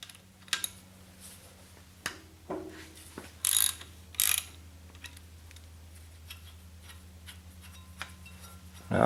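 Ratchet working a nut loose on a Ford 9N/2N/8N tractor engine, scattered clicking pawl strokes with a few louder bursts in the middle, close up over a quiet background hum.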